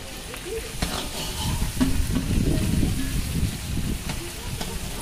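Large freshwater prawns fry in a big batch for prawn malai curry cooked for about 150 people, giving a loud continuous sizzle with stirring clatter and scraping, and faint voices in the background.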